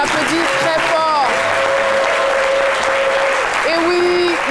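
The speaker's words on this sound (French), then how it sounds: "je vous demande d'applaudir très fort" Studio audience applause on a midday television show, sustained loud clapping from a crowd with music tones and a voice running over it.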